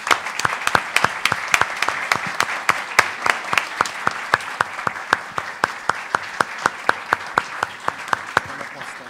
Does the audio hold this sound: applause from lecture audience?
yes